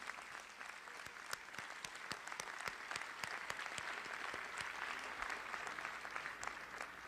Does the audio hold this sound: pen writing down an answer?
no